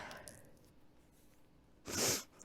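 A single sharp sneeze bursts out near the end, loud and close, after a quiet stretch with faint background noise.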